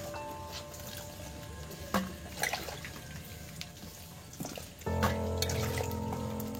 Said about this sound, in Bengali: আলু, সোয়াবিনগুলো আমি ভালো করে চেপে চেপে জলটা ফেলে দিয়ে তুলে নিচ্ছি